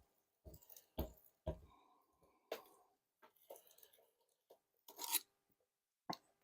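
A chainsaw chain is filed in a cheap sharpening jig, giving short, scattered rasping strokes and clicks with gaps between them, close but faint.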